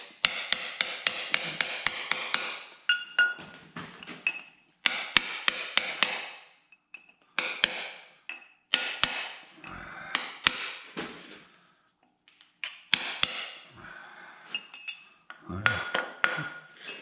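Sharp metal hammer blows strike a single-bevel chisel working the engine locks on a Farmall Super C tractor, coming in quick close bursts of ringing taps separated by short pauses.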